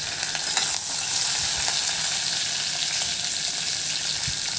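Curry leaves and finely chopped green chillies hiss and sizzle in hot oil seasoned with asafoetida, a steady bright spattering that stays even throughout, with no voices.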